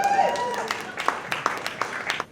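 Scattered hand claps from a comedy club audience at the Miami Improv pop out in an uneven rhythm beneath a loud voice speaking over them.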